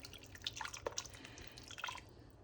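Salsa is poured over a block of cream cheese dusted with dry cumin, giving soft, close, wet drips and plops in a quiet kitchen, with no talking.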